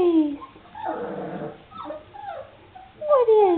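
Thirty-one-day-old puppies whimper and whine in rising and falling tones with a few low growls, close by and moderately loud, in short bursts across a few seconds.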